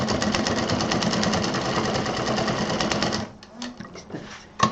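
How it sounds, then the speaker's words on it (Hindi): Domestic sewing machine stitching a seam on a handmade fabric craft, a steady loud motorized whir with fast needle clatter running continuously for about three seconds, then stopping abruptly, leaving faint clicks and handling sounds. "जितना इस साइड हमने सिला है उतना ही इधर भी सिल देंगे"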